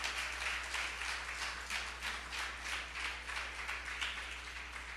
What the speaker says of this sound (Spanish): Dele un aplauso al Señor, aleluya.